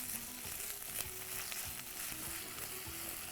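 Onions with ginger-garlic paste sauté in a pan, a steady close crackling sizzle with a few soft stirring scrapes and no talking.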